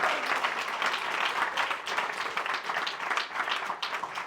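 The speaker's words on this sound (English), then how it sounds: "give them a big round of applause." Warm audience applause welcoming young initiates at an initiation class, a dense, steady roll of many hands clapping, loud and sustained without a break.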